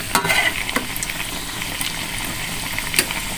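Pempek fish cakes made with anchovy fry in hot oil with a steady, bright sizzle throughout, punctuated by a few louder crackles and stirring clicks, close up with no talking.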